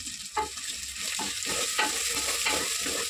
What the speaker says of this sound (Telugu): సిమ్లో పెట్టుకొని ఫ్రై చేసుకుందాము